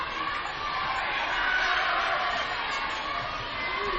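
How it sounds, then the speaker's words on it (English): A high school boys basketball crowd, kids loudest among them, cheers and roars steadily as the clock winds down in a close game, a continuous, moderately distant wash of voices with no single words standing out. "Crowd's getting loud, especially the kids, as time winds down."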